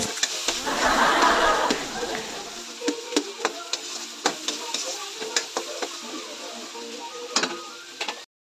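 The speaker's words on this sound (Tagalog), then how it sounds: "haluin lang siya ng haluin until mag-golden brown din yung bawang sibuyas na hinalo nyo" Garlic and onion sautéed in a pan for ginisang monggo, a burst of sizzling frying at the start, then a series of clicking spoon-against-pan stirring taps over a softer background hiss.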